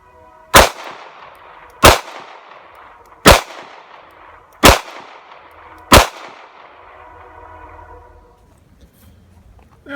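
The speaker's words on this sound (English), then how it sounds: "I'll fire all 5 of the shots into the head." A Smith & Wesson 342 Airlite revolver fires five loud, sharp shots at an even pace about 1.3 seconds apart, each followed by a short ringing decay, with quiet between shots and a faint rumble near the end.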